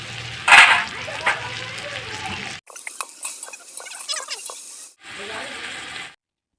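Chilli and coriander paste hits hot oil in a pot on a wood-fired clay stove while cooking khichda, giving a bright sizzle and frying crackle with stirring, then a quieter bubbling stretch after a brief cut.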